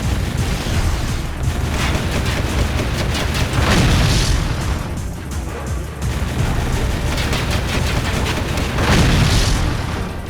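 Loud, continuous gunfire and booming explosions from shooting at tankers in the Jak II video game, a dense unbroken barrage with heavier blasts swelling around the middle and again near the end.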